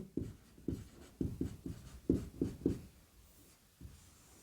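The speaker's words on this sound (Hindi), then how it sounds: "बारंबारता लिख देता हूं।" Pen or pencil strokes on paper as frequency values are written by hand during a maths class, a series of short scratchy marks in an uneven rhythm, close and clear with no talk.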